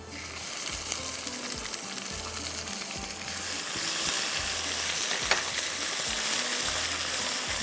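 Ginger and garlic fry with garam masala in a hot pan, a steady close sizzle with a dull scraping of stirring underneath, holding at an even moderate level throughout.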